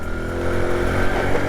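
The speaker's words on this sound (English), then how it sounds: "Really nice bit of pace off this engine." A 1995 Honda C50 motorcycle engine runs at steady pace, a continuous close buzzing drone with a slight rise and fall in revs throughout.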